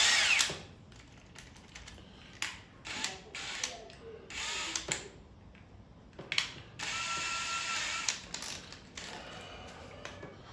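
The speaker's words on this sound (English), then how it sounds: "I'm just going to drill a pilot hole in each one of these holes" A power drill whirs in repeated short bursts, stopping and starting as it bores pilot holes in a door threshold, close and fairly loud.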